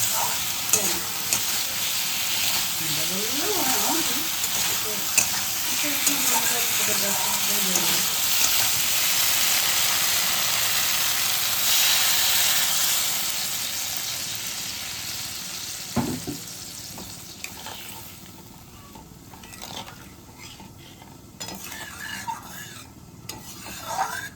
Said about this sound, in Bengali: ওদিকেও কিন্তু ফোটার আওয়াজ হচ্ছে